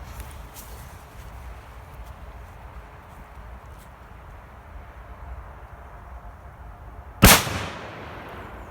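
A Funke Trueno No 3 firecracker goes off outdoors with a single sharp, loud bang near the end, followed by a brief fading rumble after a quiet stretch of faint background noise.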